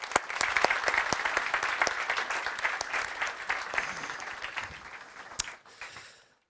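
Warm audience applause for youth summit challenge winners in a Stockholm conference hall, dense steady clapping for about five seconds before tapering off and fading out.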